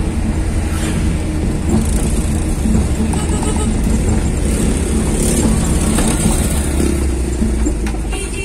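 A car engine labours while climbing a rocky uphill road through a residential complex, a loud, steady, strained drone with rough mechanical noise lasting the full stretch and no pauses.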